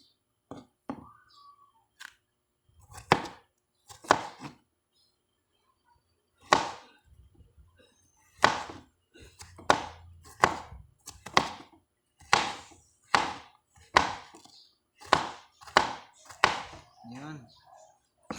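Bitter gourd (ampalaya) being thinly sliced with a sharp knife for cooking with egg, a series of crisp, close knife chops on a board in an irregular rhythm, with quiet talk in between.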